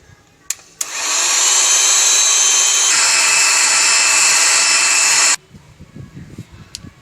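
Electric beater whipping egg whites runs as a loud, steady high-pitched whir for about four and a half seconds, starting after a couple of clicks and stopping abruptly, with light clatter afterward.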